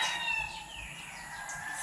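A rooster crows once, faint and distant, under a steady background hiss.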